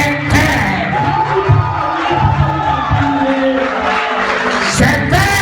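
Church congregation cheering and shouting acclamations at a Sunday blessing service, a loud sustained roar of many voices with whoops rising and falling over background music.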